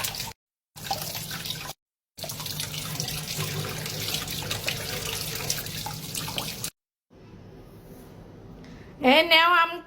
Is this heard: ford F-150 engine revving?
no